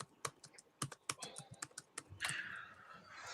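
Typing on a computer keyboard, a quick irregular run of close, crisp key clicks that gives way to a longer rushing sound near the end, with no talk.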